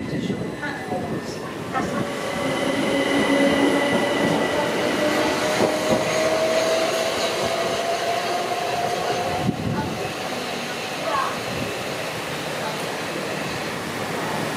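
A train rolls along beside a platform at Balham station, wheels rumbling and squealing faintly, while a recorded announcement plays over the noise.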